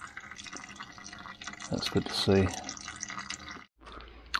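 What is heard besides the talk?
recycled cooking oil dripping through filters into catch pan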